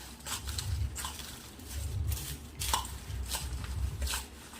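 Farali chivda being tossed and stirred in a small bowl, soft rustling crunches and light scraping knocks repeating every second or so, close up with no talking.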